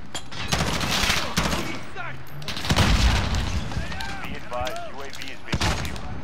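Modern Warfare beta online match, bursts of automatic gunfire and booming impacts mixed with footsteps and game effects, while a player talks excitedly over the action throughout.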